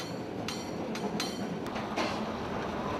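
A San Francisco cable car rolling along its rails, a steady rumbling ride with a few sharp metallic clicks and rattles over the track, fairly close and continuous, no voices.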